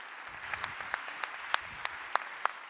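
Audience at a French school careers-day presentation applauding: steady, crowd-wide clapping with a few sharper individual claps standing out, continuous and fairly distant.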